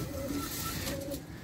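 Pigeons coo in a loft near a caged Ferozpuri hen, the low rounded calls coming in two or three close repeated phrases over a steady bed of background noise.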